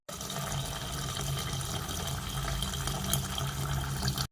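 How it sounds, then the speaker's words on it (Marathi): Water pours steadily into washed rice in a container for idli batter, a continuous close splashing and gurgling that runs unbroken for a few seconds, then stops. "आता आपण याच्यामध्ये पाणी टाकूया"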